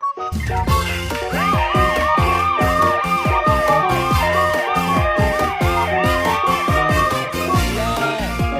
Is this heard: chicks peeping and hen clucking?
no